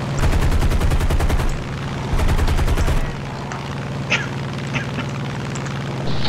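Aircraft machine guns in War Thunder fire two loud, rapid sustained bursts over a constant engine drone, followed by a few faint distant impacts.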